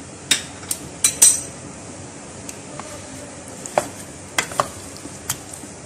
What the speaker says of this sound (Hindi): इस पेस्ट में अब इस चिकन को पकाएंगे।